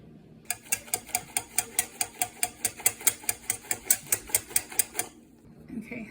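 A whisk beats vanilla and molasses into warm milk for homemade yogurt, about twenty fast, even clinks against the pot that stop abruptly near the end, followed by faint handling noise.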